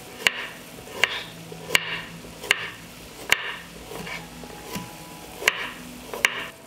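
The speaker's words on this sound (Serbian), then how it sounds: "sada ću iseći jednu šargarepu" A carrot is cut with a knife on a cutting board in a home kitchen, producing about nine crisp, evenly spaced chops at a steady rhythm, close and clear, with no talking.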